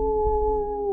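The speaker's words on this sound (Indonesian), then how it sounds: "hanya ada suara lolongan anjingnya" A dog's howl rises as one long, steady, sustained note in a silent, pitch-dark setting. It sounds alone, with no talking.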